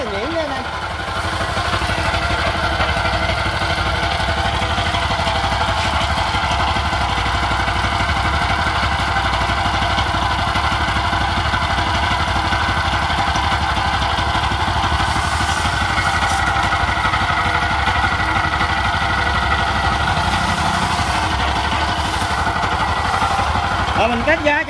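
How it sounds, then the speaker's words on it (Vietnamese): A used Japanese Mitsubishi GM engine idles smoothly and evenly, a close and continuous steady running sound that holds for the whole stretch. "Máy nổ rất là nhuyễn nha anh em."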